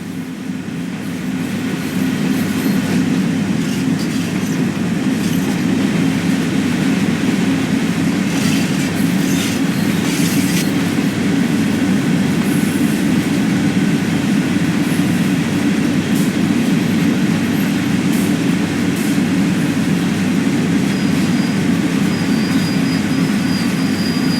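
Freight train led by an ES44C4 locomotive braking in Train Sim World 4: a loud, continuous low rumble of rolling cars with steady wheel clatter and faint high squeals, filling the whole stretch without talk.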